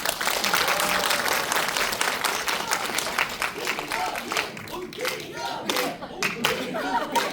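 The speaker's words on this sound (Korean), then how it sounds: "박수 부탁드립니다" Applause from an audience at a group screening of a Korean independence-army documentary film in Cheongju, dense sustained clapping with crowd noise and some chatter throughout, loud and continuous.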